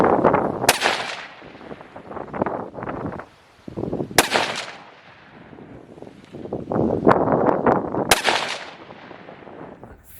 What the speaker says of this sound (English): I'll be shooting the rest of these down here at this target